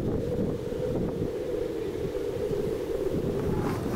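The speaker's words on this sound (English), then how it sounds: "listen to this wind howl." Strong wind in Unalakleet, Alaska, a constant loud rumble and howl battering the microphone, with gusty swells throughout and no speech over it.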